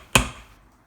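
A single sharp clack as the lid goes back onto a Pressure King Pro pressure cooker holding soft prawn and chorizo rice, loud and close, then a short fading ring into quiet.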